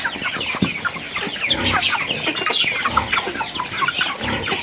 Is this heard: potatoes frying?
no